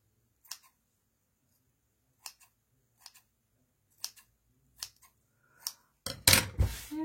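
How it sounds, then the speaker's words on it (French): Scissors cutting off-white fabric for a pouch: six separate crisp snips spaced about a second apart, close and clear against near silence, followed by a louder rustle of handled fabric at the end. "Je vais couper un peu."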